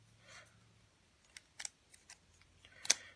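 Scissors make a series of small, crisp snips and clicks while cutting open the side of a party popper tube. The cuts come at irregular intervals, close up and quiet, with no talking.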